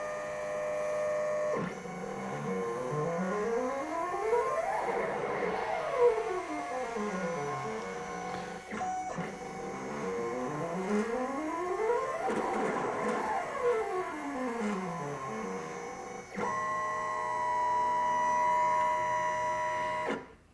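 An SC2 cutting plotter runs a cut, its stepper motors whirring and whining in rising and falling sweeps that repeat in cycles, with steady mechanical hum throughout and no talking.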